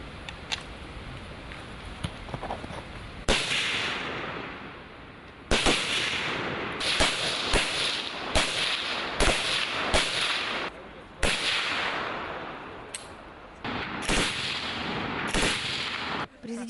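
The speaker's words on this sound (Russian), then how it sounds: "участники лагеря обучаются стрельбе из разных видов оружия" Small-arms gunfire at an outdoor shooting range, where youths fire single shots at chest targets. Repeated loud sharp reports sound at uneven intervals, each one echoing and decaying, with voices faint underneath.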